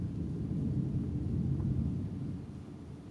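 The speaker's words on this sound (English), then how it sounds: "That thunder just shook the guest house lounge" Storm thunder outside a guest house in Highland Park, Texas, a low continuous rumble that rolls for about two seconds and then slowly fades, heard alone with no voices.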